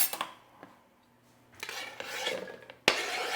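Knife chopping small garden-grown eggplants on a board, a few sharp isolated chops spaced out with quiet gaps, then a louder cluster of cutting and scraping near the end.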